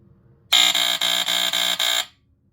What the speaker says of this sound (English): It's a buzzer, but it actually has a coding, which is something you don't hear very often.